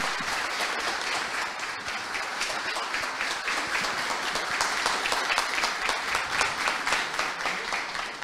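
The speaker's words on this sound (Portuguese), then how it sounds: "Salva de palmas para a Marcela, pessoal." Steady audience applause for the speaker Marcela after a community talk, a dense wash of clapping that holds at an even level for about eight seconds with no voices on top.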